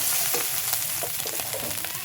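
Chilli chicken with ginger, garlic and onion paste, turmeric and chilli powder frying in a pan, giving a dense close sizzle with occasional stirring scrapes.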